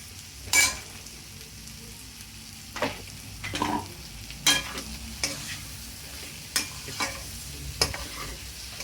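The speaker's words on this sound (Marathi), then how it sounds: "हे सारण आपल्याला अगदी छान परतून घ्यायचंय" Samosa filling is sautéed in a pan under a soft steady sizzle, with sharp irregular spatula scrapes and knocks against the pan, close and without speech.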